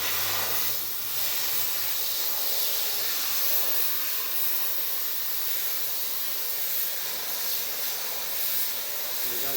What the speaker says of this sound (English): my colleague's just going to put up some air behind the screen so we can see where it's leaking